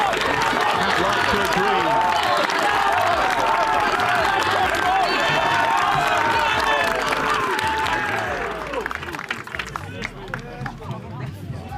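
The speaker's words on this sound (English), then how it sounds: "It's a rapturous applause from their home support." A home crowd at an international schools rugby match between Kirkham Grammar and Terenure College applauds and cheers as the team runs out, a loud sustained roar of clapping and voices that thins toward the end, with commentary over it.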